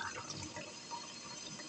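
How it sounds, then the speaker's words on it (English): Thin stream of water trickling from a tap into a small cup, a faint, steady, hissy pour that runs throughout, with no talk. "I'm just trying to fill up a small cup of water here, and it takes like 30 seconds."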